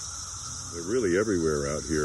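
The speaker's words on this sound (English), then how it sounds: "That's the sound of cicadas." Cicadas buzz in a steady high drone through outdoor air, with a voice speaking over the insect chorus partway through.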